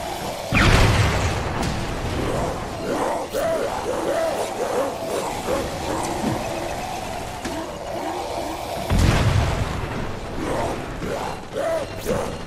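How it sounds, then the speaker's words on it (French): Grenades exploding in the video game Crackdown 2: two heavy, loud blasts, one near the start and another about two-thirds through, with clattering mechanical game noise and rumbling action between them. "Utilisez vos grenades pour tailler ces frics en pièces."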